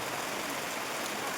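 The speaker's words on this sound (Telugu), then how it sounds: "వర్షం అయితే విపరీతంగా పడుతుంది." Heavy rain pours on a construction site, a dense, even hiss of downpour close by and unbroken for the whole stretch, with no voices.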